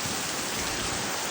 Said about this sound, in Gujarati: મેઘરાજા દિવ્ય અને ભવ્ય આજે વરસાદ આવ્યો